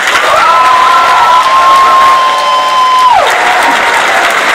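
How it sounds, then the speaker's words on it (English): Loud sustained applause with cheering from a graduation audience at Oakland School for the Arts, 2015, honoring the graduating class; a steady wash of clapping with a high whistle-like tone riding over it for several seconds. "Please join me one more time in a rousing applause for this class."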